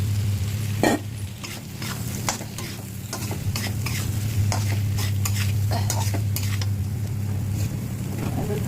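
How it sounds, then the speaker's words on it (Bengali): Fried taro pieces tossed into a sizzling, oil-separated spice masala and stirred for a fish dish, a steady loud sizzle under repeated sharp scrapes and clinks of the stirring spoon against the pan. "এবার আমি মধ্যে ভাজা কচুগুলো দিয়ে দেবো"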